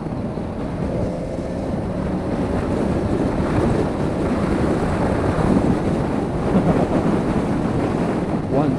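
Heavy wind buffets the rider of a Yamaha FZ6R motorcycle at freeway speed, a steady, loud rushing roar that fills the whole stretch.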